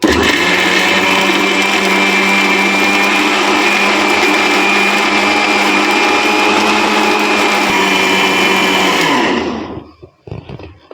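A mixer grinder whirs loudly and steadily for about nine seconds while grinding idli chutney with fresh coriander leaves, then cuts off abruptly into a few faint clicks and near silence.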